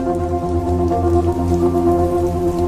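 Rain falls steadily in a tropical forest setting where hummingbirds bathe, a close patter of drops on leaves over a low sustained hum, with no voices.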